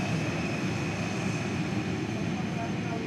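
A Cessna Citation Latitude business jet at Dallas Love Field sends out a continuous engine roar with a steady high whine, loud and even across the moment.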